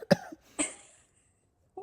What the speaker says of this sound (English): You're fucking coughing for what?